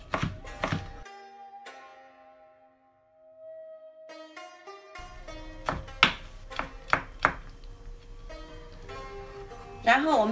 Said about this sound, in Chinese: 再切成丝